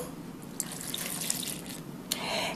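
Water runs and splashes as it is poured into a bowl of boxed chocolate cake mix with eggs, a quiet, continuous trickle with a few small drips near the end.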